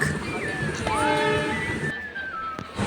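A train to Digha rumbles steadily nearby while a long, tonal train horn sounds and bends in pitch over the noise.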